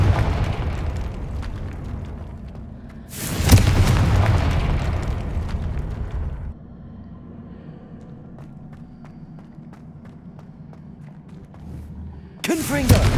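Confringo spell explosions from the video game Hogwarts Legacy: a loud, booming burst roars for about three seconds, then a quieter stretch with game sounds before another blast erupts at the end. Voices come and go throughout.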